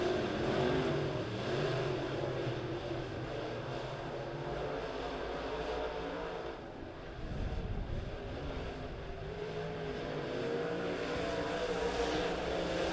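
Dirt track race cars roar past at Springfield Raceway under green flag during a heat race, a dense engine drone rising and falling as the pack passes, with a louder surge midway.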